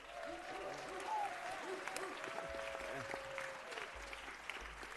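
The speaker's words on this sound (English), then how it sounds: "Let's give him a round of applause." Applause fills a city council meeting chamber, a broad wash of clapping from the audience, fairly distant and steady, with faint voices mixed underneath.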